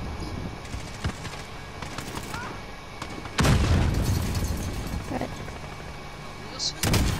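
A grenade explodes in Call of Duty Modern Warfare multiplayer, a sudden loud close boom midway amid scattered gunshots and battle noise, with a player talking.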